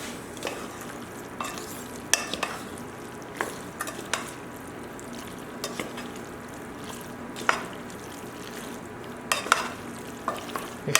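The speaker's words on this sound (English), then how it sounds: "Mix everything together." Shrimp scampi pasta being stirred through its sauce in a pan, with repeated scraping and clinking spatula strokes over a soft, steady sizzle, close up and with no voices.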